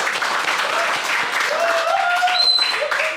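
A podcast studio audience applauds a visiting film director, sustained close clapping with some whoops and a tonal cheer rising through it.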